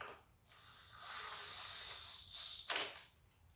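A ratchet wrench tightens a bolt on an M127 water pump, giving a steady close-up run of quick clicking for a couple of seconds, ending in a sharper louder clack.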